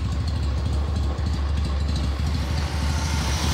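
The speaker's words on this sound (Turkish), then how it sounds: "bir motor sesi var" A motor idles steadily for the whole stretch, a close, constant low rumble with no break and no talking over it.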